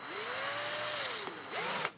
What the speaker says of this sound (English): Cut the head off, chuck it into the drill driver